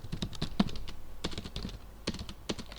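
Rapid, irregular clatter of keys on a computer keyboard, fairly close and moderately loud, with short bursts and brief pauses as someone types a search query into a web page.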